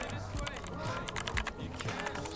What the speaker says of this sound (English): A little Red Dragon keyboard, super nice and clicky.